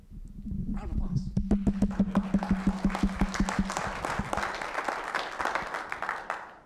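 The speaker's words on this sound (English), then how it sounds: "Round of applause." An audience at a hurricane seminar applauds as the fire chief is introduced, beginning with a rhythmic clap alongside a low voice, then swelling into dense, sustained crowd applause that gradually tapers.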